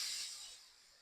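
Water is poured into a hot pan of potato curry, aloo dum, and sets off a bright sizzling hiss that fades quickly over a second, close and alone.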